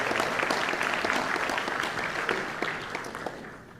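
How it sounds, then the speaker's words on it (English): Audience at a high school bands winter concert applauds a symphonic band, dense crowd clapping that starts strong and gradually thins and fades toward the end. "how about another round of applause for this symphonic band?"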